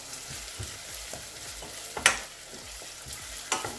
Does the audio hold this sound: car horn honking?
no